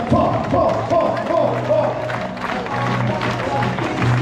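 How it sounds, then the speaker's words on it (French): Runners gathered at the start of a 10 km race applaud the organising team, a crowd's clapping and scattered cheers mixed with a public address voice talking over it throughout. "Vous allez vous applaudir, on va applaudir la team Orga."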